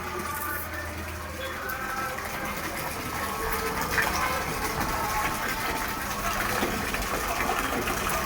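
Water sloshes and gushes continuously as it is moved around in a big tub, a close, full wash of sound with people talking over it.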